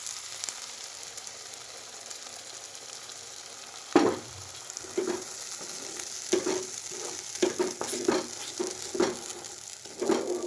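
Chili spice paste with cashews sizzles and fries in a pan, a constant close crackle with intermittent spoon scrapes and stirring knocks after a sudden splash as the paste goes in, no talking.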